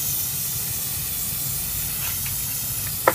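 A continuous hissing spray from a spray paint can aimed at a bottle runs steadily for several seconds, close and fairly loud, with a couple of brief clicks near the end.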